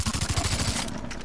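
Rapid gunfire from a rifle shooting a buffalo in Far Cry 3, a burst of loud repeated shots for about a second followed by a brief fading tail.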